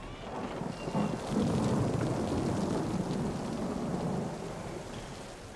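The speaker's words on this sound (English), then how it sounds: "thunder is dangerous" Rolling thunder rumbles through a storm with steady heavy rain, a loud continuous low roar that swells early and holds for several seconds, with no voices.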